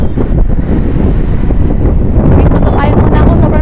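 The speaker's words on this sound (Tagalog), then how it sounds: "Sobrang lakas ng hangin dito." Loud, constant wind buffeting the microphone, a roaring rumble with gusty swells and some broadband hiss, with possible faint talk buried underneath.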